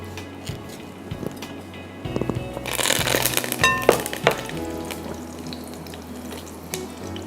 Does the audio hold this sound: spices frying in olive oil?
yes